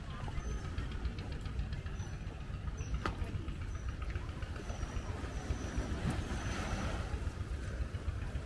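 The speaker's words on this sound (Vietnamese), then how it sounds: "Mọi người nghe cái tiếng sóng biển không mọi người?" Sea waves wash against the embankment at Tan Thanh beach in Go Cong, a continuous low rumbling surge with a few sharper splashes, close and steady throughout.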